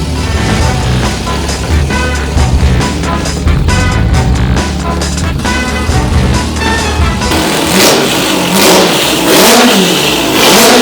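A four-rotor rotary engine race car is being tested, with loud, close revving that rises and falls in pitch over steady engine drone, and the tone shifts partway through.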